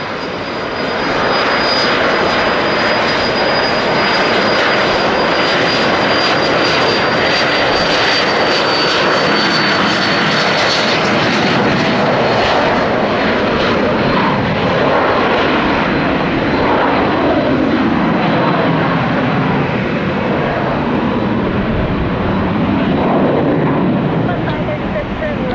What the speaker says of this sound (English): Southwest arriving from CMH, Columbus, Ohio.